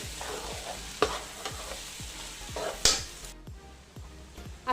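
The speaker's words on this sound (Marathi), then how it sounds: "आणि आता हे मिक्स करून घेते।" Sprouted matki bhaji being mixed with spices in a pan, a soft sizzle under repeated scraping strokes of a spoon and a couple of sharper knocks against the pan.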